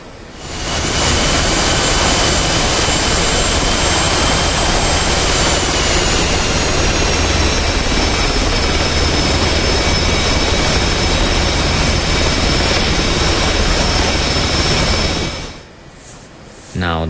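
Twin engines of an F/A-18C Hornet spooling up in DCS during carrier operations at sea, a loud, steady roaring whine with rising tonal whistles that holds for most of the stretch before dropping away abruptly near the end.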